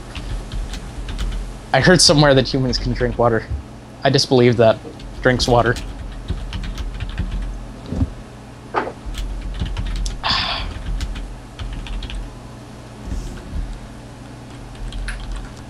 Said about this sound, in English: because I'm typing something to chat